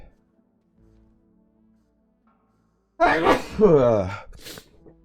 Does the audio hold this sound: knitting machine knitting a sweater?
no